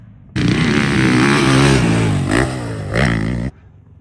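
A dirt bike engine revs hard during a ride, loud and close, holding a steady roar for about three seconds with two brief throttle blips before it cuts off sharply.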